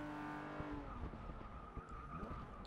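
Porsche race car in the Forza 6 video game sliding through a corner, engine droning with a rising-and-falling tone while the tires squeal and skid, moderately loud and continuous, no talk over it.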